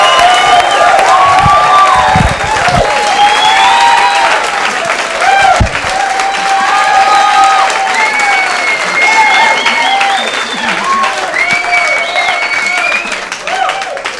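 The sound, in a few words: audience applause for comedian Tom Brown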